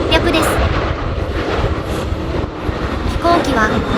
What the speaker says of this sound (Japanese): こちらは長崎空港へ向かうソラシドエアのボーイング